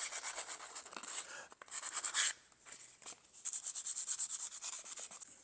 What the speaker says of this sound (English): let's get to sanding and see if we can fix some of the little rough areas